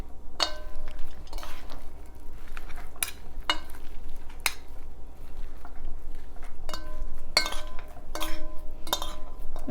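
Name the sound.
pressing meatloaf mixture together with two spoons in bowl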